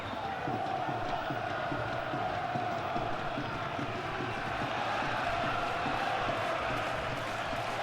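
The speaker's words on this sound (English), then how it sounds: "Portsmouth have brought so many, and they always make a noise." Portsmouth fans fill a football stadium with a steady, dense roar of crowd noise that holds unbroken throughout, with a commentator talking over it.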